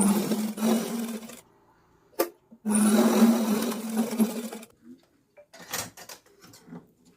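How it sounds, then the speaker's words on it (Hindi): Sewing machine stitching a blouse side seam: two sustained runs of steady humming stitches, close and fairly loud, separated by quiet pauses and a few handling clicks. "ये हमने सिलाई लगा ली है।"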